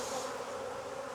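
Honey bees buzzing around a hive on a cloudy, rainy day, a dense steady drone of many insects close by with no other sounds.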